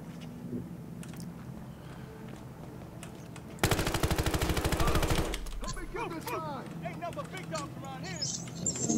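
Machine gun fire from the shooter game Battlefield Hardline on the Dust Bowl map bursts loud and rapid for about a second and a half, between stretches of someone talking and quieter game noise.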